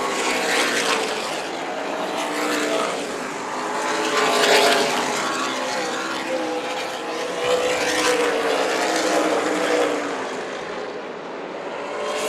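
Super late model race cars battle for position at Tucson Speedway, a loud continuous engine roar that swells and fades as the pack passes, with no voices.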